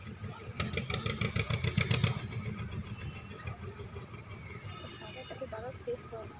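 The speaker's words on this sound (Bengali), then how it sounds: "এই যে নৌকোটা চলে এলো" A motor boat engine hums steadily as the boat pulls in, louder for the first two seconds and then settling to a lower, even drone, with voices talking over it.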